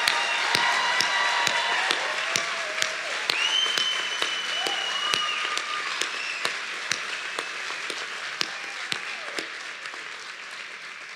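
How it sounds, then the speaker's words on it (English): A graduation audience at a 2025 Ferguson High School ceremony applauds the graduates with sustained clapping punctuated by sharp individual claps and occasional whistles. The applause slowly thins out over the length of the clip. "Please help me give our graduates a round of applause for their commitment to education"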